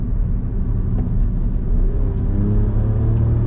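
A car driven with its fuse removed and the engine warning light on accelerates on the road, a loud, steady low engine rumble and whir continuing without a break.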